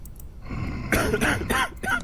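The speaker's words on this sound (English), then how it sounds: "He has a cough" A character in the video game Quarantine Zone: The Last Check coughs about four times in quick, uneven bursts, close and fairly loud, with a throaty rasp and no speech.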